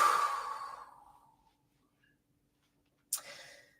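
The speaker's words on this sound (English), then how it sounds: "Mine just turned into a big yawn." A person yawns big while stretching in a beginning yoga session, a breathy, drawn-out exhale that fades over about a second and a half, followed by quiet and then a short sharp breath or sniff.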